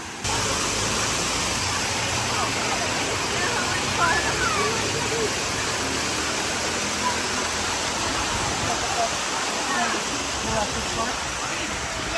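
A waterfall pours down like a heavy rain shower at Oslob, Cebu, giving a steady, loud, close hiss of falling water that never lets up across the whole stretch.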